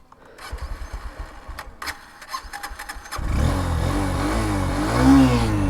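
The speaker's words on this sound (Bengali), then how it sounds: "এক্স ব্লেডেরটাও একটু শোনায় দিই" A Honda X-Blade motorcycle at a bike market runs through a few seconds of clicking and handling, then its engine catches and revs loudly and up close, rising and falling in repeated throttle blips.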